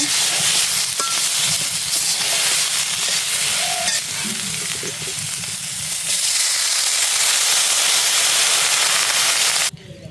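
Vegetable curry sizzles loudly in a pan as liquid is poured in, a dense, continuous hiss and crackle with stirring, steady throughout before cutting off abruptly at the end.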